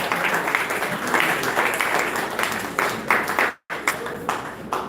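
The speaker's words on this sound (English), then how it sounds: "Let us still continue to give him a good round of applause" A round of applause from an audience at an academic event on research grants, sustained and fairly loud, with a brief dropout near the end before the clapping resumes.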